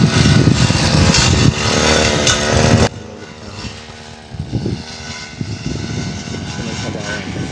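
A grass cutter engine drones and revs nearby in a field being planted with bitter gourd. It is loud at first, then drops to a lower, uneven running note with bursts of revving.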